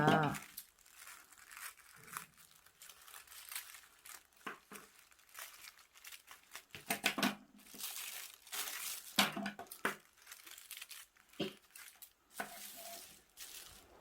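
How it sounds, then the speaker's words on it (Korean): A plastic bag being unfolded and its ends cut for a craft made from reused bags, heard as dense close crinkling and rustling with a few sharper snips, continuous across the whole stretch. "지난번에 접어둔 비닐봉투를 이렇게 풀러서요. 음, 요 끝부분을 잘라주세요."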